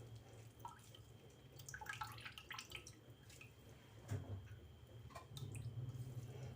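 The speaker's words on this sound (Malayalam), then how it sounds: "ഈ ഒരു ചെറിയൊരു അരിപ്പ് വെച്ച് നമുക്ക് ചെയ്തെടുക്കാം." Water drains from freshly grated potato pressed in a small kitchen sieve, giving soft irregular drips and trickles close by, with a few louder splashy bursts and no voices.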